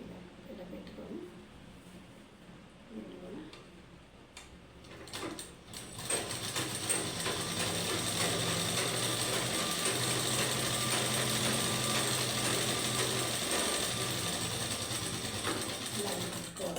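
A sewing machine stitching the front part of a blouse starts with a few short bursts, then settles into a steady rapid mechanical whir. A voice speaks over the early part.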